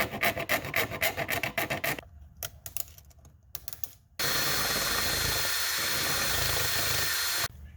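A hand file rasps burrs off the freshly cut edges of an Area 419 upgrade part for an FX120i AutoTrickler V3, in quick rhythmic strokes, then scattered lighter scrapes, then a long steady gritty rub, close and alone.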